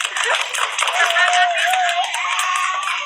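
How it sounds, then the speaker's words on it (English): Party guests clap together after a birthday song, with bright, dense clapping under cheering and talking voices. "Give a clap, everybody"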